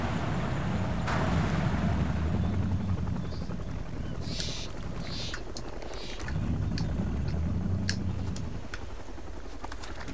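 A helicopter in the Xbox game Far Cry Instincts drones steadily at a distance, a low wind-like rotor rumble with faint intermittent game effects and no speech.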